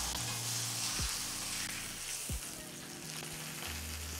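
Steak sears in a pan with a steady, dense sizzle running throughout, close and even, with a few faint clicks and knocks underneath.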